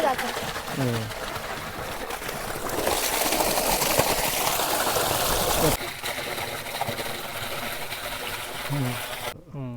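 Water splashes and rushes steadily over freshly harvested methi and coriander greens to rinse off red field soil, a continuous wet wash with birds calling faintly in the background.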